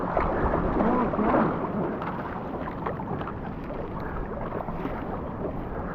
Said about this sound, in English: Nice paddling, Mike.